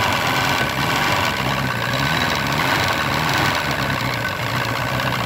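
A 1999 Force 120 outboard engine on a Bayliner boat idles after a cold start, a loud, continuous, slightly rough rumble that holds steady throughout.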